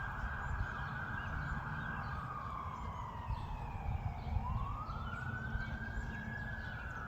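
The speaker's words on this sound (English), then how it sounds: "This is where the sirens continue." A wailing siren rises and falls in pitch, steady and fairly distant, over a constant low rumble of traffic or wind.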